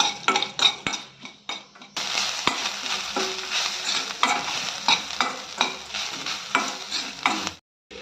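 Urad dal and cumin seeds fry in two spoons of hot oil with a loud, dense sizzle that starts abruptly after a couple of seconds of stirring and clinking, then continues steadily with spoon scrapes and taps against the pan.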